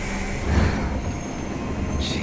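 A train in the video game 13 Sentinels: Aegis Rim rumbles steadily for a couple of seconds, with a brief high squeal near the end and no talking.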